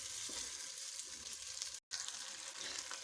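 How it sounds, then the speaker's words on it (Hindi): Fish coated in masala fries in a pan with a steady, dense sizzle. The sound runs continuously and fairly loud, broken by a brief silent dropout midway, with no voices. "मसाले के साथ हमें फ़िश को थोड़ा भूनना है"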